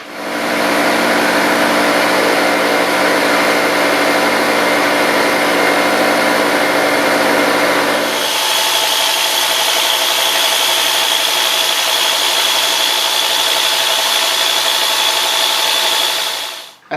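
A milling machine at about 660 RPM takes a 30-thousandths cut on a machinist vise, a loud steady grinding whir that shifts to a brighter cutting tone midway and runs continuously, no talking.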